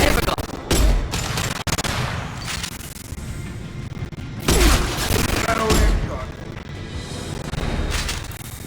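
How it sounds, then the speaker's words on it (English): Gunfire from a Mass Effect battle: loud, continuous bursts of shots and heavy impacts with booming hits, mixed with in-game voices calling out over the combat. "Friendly fire, Shepard!"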